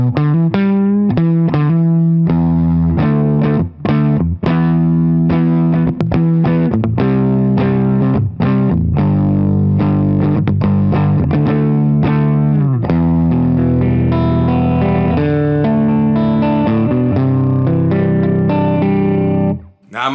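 Cheap Amazon Les Paul-style electric guitar on its middle pickup with heavy distortion, a steady, loud run of chugging chords and riffs played close for about twenty seconds without talk.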